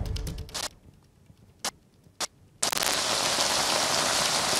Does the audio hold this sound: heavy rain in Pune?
yes